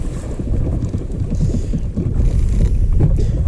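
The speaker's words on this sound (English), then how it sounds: "it's not super windy today, but it's windy enough to kind of impact things just a little bit" Wind gusts across a boat, with a steady low rumble and microphone buffeting that swells slightly toward the end; no one speaks.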